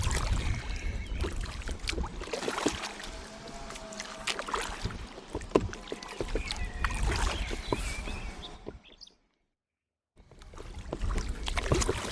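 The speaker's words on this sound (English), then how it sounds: "Well, the wind's so strong here, I'm hardly moving. I'm really having to fight it." Paddling a canoe or kayak on a river against strong wind, with rhythmic paddle splashes and water dripping off the blade amid steady wind rush, broken by a brief silence near the end.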